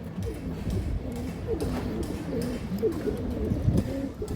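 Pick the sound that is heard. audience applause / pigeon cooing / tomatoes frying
pigeon cooing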